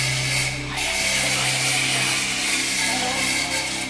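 Steady, loud mechanical sawing grinds on without pause, a harsh buzzing whine with a low motor hum underneath.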